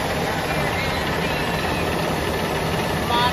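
A Cummins diesel engine that runs but cannot move the machine rumbles loud and close in a steady, unbroken drone.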